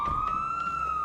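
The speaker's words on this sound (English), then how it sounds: "Can you cycle the sirens? Because I'm hearing things." A police siren in a video game holds a loud, steady high wail, close by, with a low rumble underneath.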